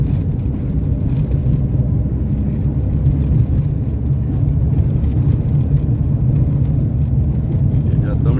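A wide, low-slung car cruises along a highway, giving a steady, heavy rumble of engine and road noise from inside the cabin, with voices present over it.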